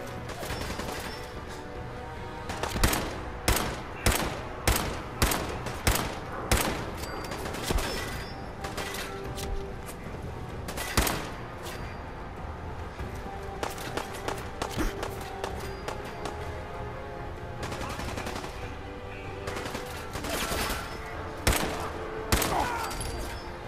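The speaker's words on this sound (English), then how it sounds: "Bullet sound effect." Gunfire in Fallout 4 at the Corvega assembly plant, a long run of rapid, loud shots in uneven bursts and clusters, some near and crisp, with crashes and scattered impacts between them.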